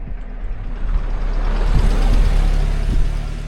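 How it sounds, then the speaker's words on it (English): A car engine rumbles past on a nearby country road on the Scottish Isle of Lismore, building gradually and staying steady as it goes by, with no talking. "I'm waiting on this car to pass"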